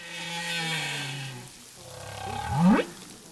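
A male humpback whale sings underwater off Rurutu, drawing out a long low moan that breaks off and then rises into a sharp upward-sweeping cry, close and alone with no talk.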